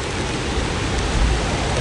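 Heavy rain pours down in a dense, even hiss with no breaks, loud and close, alone without any voices.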